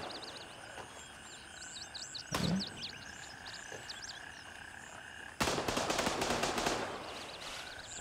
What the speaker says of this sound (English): I hear those shots.